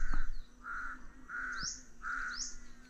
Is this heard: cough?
no